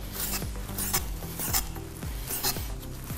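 Knife cutting through soft cooked pork, a series of repeated close scraping and tapping strokes against a board at a fairly regular rhythm, with no voices.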